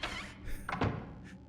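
A door opening in the survival horror video game Silent Hill gives a short, heavy thunk with a dull thud, heard up close and alone over a low ambient background.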